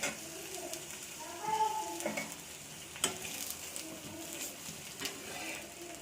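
An egg onion omelette frying in a pan just after flipping, a soft continuous sizzle with occasional light taps and scrapes, fairly faint and without talk.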